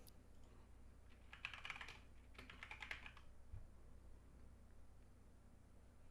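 Computer keyboard keys clatter in two short bursts of quick typing while binding landing-light controls for a flight simulator, fairly close but quiet over a faint steady background hum.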